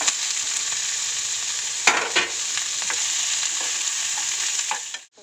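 Onion dropped into hot oil with curry leaves and green chilli crackles in a loud, steady sizzle, with a few sharp stirring knocks, before cutting off abruptly at the end.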